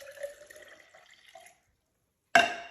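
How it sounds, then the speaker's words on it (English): Cold water trickles and splashes into the cup of a BlendJet 2 portable cordless blender, a soft pouring sound that stops, followed after a pause by a sharp, louder splash. "I'm going to pour a little bit of cold water in the bottom."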